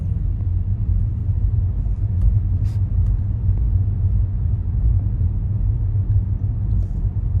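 Road traffic passing on a mountain road, a steady, loud low rumble of vehicles with no distinct pass-bys, continuous throughout.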